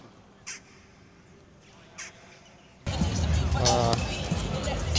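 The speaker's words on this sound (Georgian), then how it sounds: "ზემოთ დაგვისვეს იქ ყვავი" Two short, harsh crow caws ring out against quiet background at a football stadium, followed by a louder stretch of crowd hubbub and chatter.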